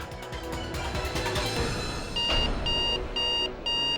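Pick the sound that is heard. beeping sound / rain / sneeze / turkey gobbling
beeping sound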